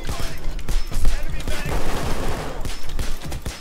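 Rapid automatic gunfire from the PAYDAY 2 video game rattles on in a dense, continuous burst, loud and steady from start to finish.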